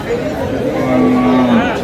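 A cow with a calf lets out a drawn-out low moo at a cattle market, amid murmuring voices and crowd chatter nearby.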